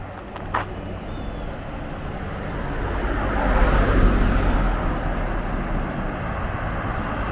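Cars pass along a roadside in Bermuda's West End near Somerset, a steady traffic rumble swelling as one vehicle nears and passes mid-way, then settling back into a continuous wash of road noise with no voices.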